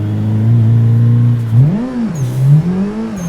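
Simulated car engine in a racing game driven with a Momo drift and rally wheel: a steady loud drone that swoops up and down through revs, alone with no talk.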